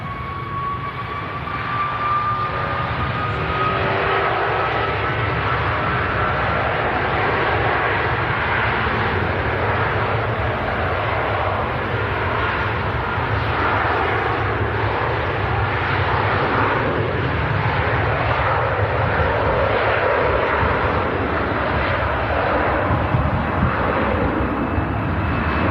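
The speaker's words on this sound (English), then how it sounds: "the Virgin Atlantic out to Orlando starts its roll" A Virgin Atlantic airliner bound for Orlando, with Rolls-Royce engines, spools up for its takeoff roll at an airport, a loud, steady, broad jet roar that holds constant throughout.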